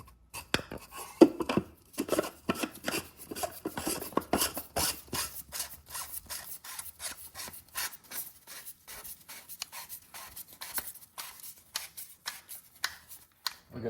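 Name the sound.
Porsche Cayman oil filter housing threaded on by hand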